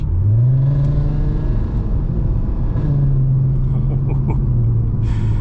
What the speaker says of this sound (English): It's almost embarrassing how loud this car really is.